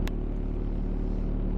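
A car engine warms up at idle, giving a steady low rumble that holds evenly and close for the whole short stretch, with no talking over it.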